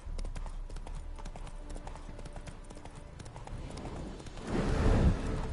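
Roach the horse trots in The Witcher 3: Wild Hunt, Hearts of Stone, her hooves clip-clopping in a steady rhythm over a low game ambience, with a brief louder rumbling swell near the end.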